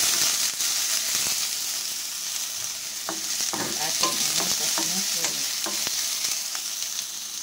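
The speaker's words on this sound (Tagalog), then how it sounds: "Naglagay na ako ng oil at igisa ang sibuyas" Onion sautés in hot oil in a pan, a loud continuous sizzle with scraping stirring strokes and crackles running through.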